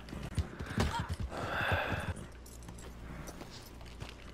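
Horse hooves clip-clop at a walk in Red Dead Redemption Online, near and fairly loud for the first two seconds and then fading under a low ambient background.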